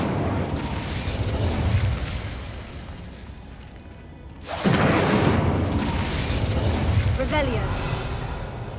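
The Incendio fire spell goes off in the Hogwarts Legacy video game. A sudden loud whooshing burst cuts through a brief lull and then settles into a roaring, crackling rumble, with a voice heard in the background.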